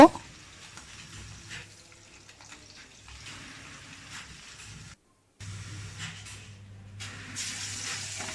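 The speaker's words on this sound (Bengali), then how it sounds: "বাকি মাছগুলো আমি ভেজে নিচ্ছি।" Rohu fish pieces frying in hot oil during rustic Bengali village home cooking, a steady close sizzle and hiss that cuts out briefly, then returns slightly louder.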